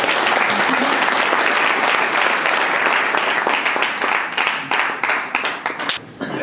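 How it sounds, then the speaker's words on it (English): A seminar audience at a goal-setting event claps for people taking their seats, loud dense applause that thins toward the end into scattered individual claps. "So can we clap for them as they take a seat?"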